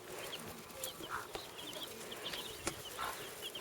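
Broody hen brooding young guinea fowl chicks in a rural farmyard, with soft clucks and faint high peeping from the chicks close by over a steady background hiss.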